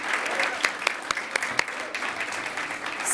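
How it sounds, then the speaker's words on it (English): An awards-night audience gives a round of applause, dense steady clapping with a few sharper individual claps standing out, close and filling the room. "So can I have a round of applause for yourselves"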